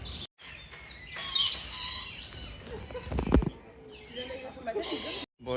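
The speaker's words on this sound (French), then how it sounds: "Le monde des perroquets, c'est parti" Parrots calling in an aviary at a bird park in Kuala Lumpur, shrill squawks and chirps rising over a busy background, with people talking nearby.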